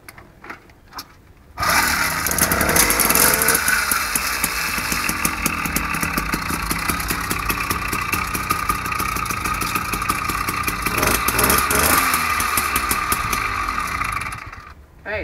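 A small gasoline engine, one of several brands such as Tecumseh, Briggs and Stratton or Ryobi, runs steadily after a cold start with the choke off, a loud continuous mid-pitched putter close by after a brief start-up.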